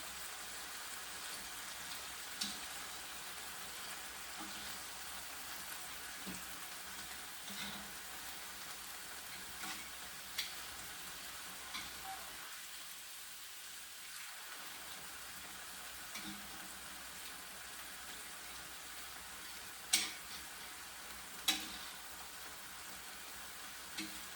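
Beef and soybean sprouts frying in a pan with soy sauce and salt, a steady soft sizzle and crackle running throughout, with a few sharper pops and clinks of a utensil standing out near the end.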